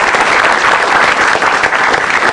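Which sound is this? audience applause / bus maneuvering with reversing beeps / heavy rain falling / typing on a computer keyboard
audience applause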